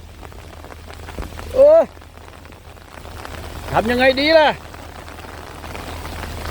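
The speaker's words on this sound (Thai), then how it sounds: "ฝนตกมาแล้วนะฝนตกครับ" Rain patters steadily across an excavator work site, with a constant close wash of drops throughout. Someone speaks and exclaims over it twice.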